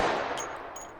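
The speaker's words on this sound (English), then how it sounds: "It's more evident with just a plain gunshot" A single gunshot fired in the video game H3VR bursts loudly at the start and decays into a lingering reverberant tail, with faint ringing tones afterward.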